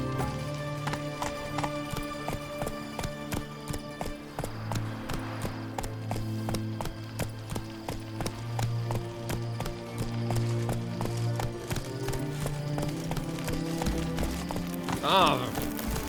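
Roach, a horse in The Witcher 3 video game, clip-clops along at a steady running pace, hooves beating in a close rhythm over game music and ambience, with a sharp burst near the end.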